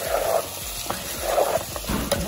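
Chopped tomatoes and green chillies stirred in a hot pan for pepper chicken give soft rhythmic scraping and gentle sizzling in a few repeated strokes, close and moderately loud.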